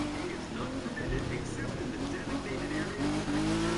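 A race car driven on an icy track in The Crew 2 video game, its engine droning steadily with shifting pitch and occasional tire noise. The engine runs continuously while a person talks over it.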